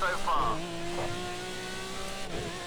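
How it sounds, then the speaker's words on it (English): McLaren F1 Long Tail GT1 race car engine in Project CARS 2 at Sugo, a steady high-pitched engine drone with a brief rising rev near the start, heard continuously with a voice talking over it. "Driving the car with just the right amount of throttle."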